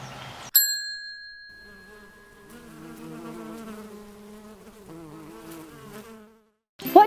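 Bees buzzing around garden flowers, a steady layered insect drone with wavering pitch rising in after a brief ding, holding for several seconds, then fading out.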